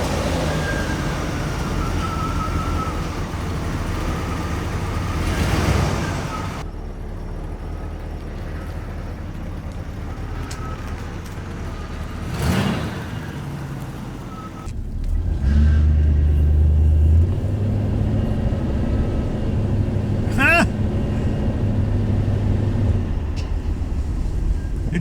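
A 1984 Chevrolet Monte Carlo SS, revived after sitting for 22 years, runs steadily and shifts through its lower gears, a continuous engine drone that swells and rises with each gear change, with no talking.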